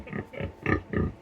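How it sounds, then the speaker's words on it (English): Four short, evenly spaced pig grunts and oinks played back through a Google Assistant speaker, fairly quiet and standing alone. "They got good pig sounds,"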